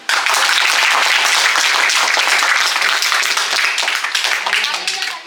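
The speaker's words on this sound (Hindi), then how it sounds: "आप सभी सबके लिए जोरदार तालियां बजाइए।" An audience at an acting workshop breaks into loud, sustained applause, a thick wall of clapping that starts abruptly and tapers slightly over about five seconds.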